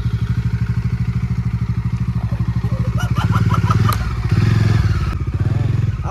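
A Bajaj Dominar motorcycle engine chugs loudly nearby with a rapid, steady pulsing beat, swelling briefly as clattering thumps and knocks sound over it.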